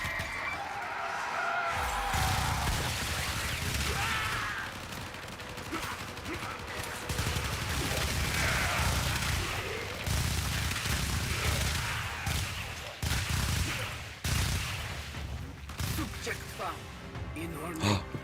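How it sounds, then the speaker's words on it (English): Gunfire from shooting enemies in the video game Warframe, bursts of loud rapid shots and crashing effects running through the stretch while a person talks over much of it. "let me start shooting these guys"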